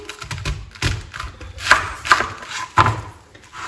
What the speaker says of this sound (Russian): порежу капусту вот такими большими кусками